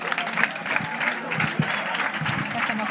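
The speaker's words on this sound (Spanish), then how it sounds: "Un aplauso, por favor." An audience at a live talk-and-music evening breaks into steady, full applause, a continuous dense clatter of many hands at fairly close range, with voices mixed in.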